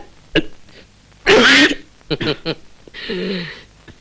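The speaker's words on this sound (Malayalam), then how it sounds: "ചിറ്റപ്പന്റെ അതേ ശബ്ദവും അതേ ചുമയും." A few short throat-clearing coughs and rasps burst out one after another, close by, with brief vocal sounds in between.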